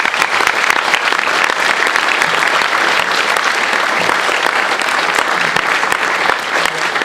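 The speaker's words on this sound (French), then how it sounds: "des applaudissements pour eux, s'il vous plaît" Sustained applause from a festival audience at an awards ceremony, dense steady clapping filling the hall for several seconds without a break.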